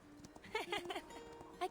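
Horse hooves clip-clop while riding in the video game Reverse 1999, a few soft, quick hoof beats under speaking voices.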